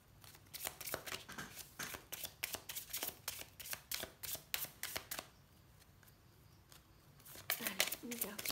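Tarot cards shuffled in a quick, steady rhythm of crisp riffling slaps for several seconds, then a pause and softer handling as a card is drawn, close and clear.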